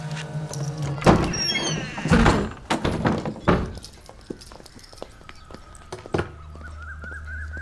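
A door is handled and opened at a home, giving a few sharp thunks and knocks followed by scraping and clattering movement, then quieter rustling and a low hum near the end.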